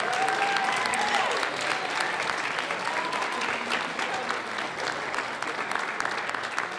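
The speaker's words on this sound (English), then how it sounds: "let's give them a round of applause for that major achievement" A high school spring band concert audience applauds, a steady, even roar of many hands clapping from across a large hall, with faint voices mixed in.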